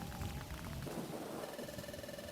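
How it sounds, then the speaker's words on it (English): Thunderstorm in Pokémon Mystery Dungeon: Explorers of Sky: a steady wash of rain with low rumbling thunder and a faint game tone, short and without speech. "The storm is causing the ground to shake."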